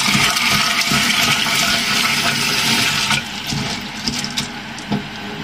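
Fox nuts rinsed under a running tap: a steady, close rush of water that drops in level partway through and continues with a few splashes and knocks.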